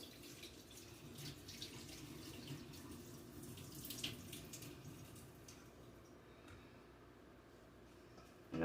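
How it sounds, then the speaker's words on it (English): Cooking water from noodles pours steadily into a kitchen sink, a continuous splashing rush at fairly low level with no talk over it. "Let me drain this water off real fast."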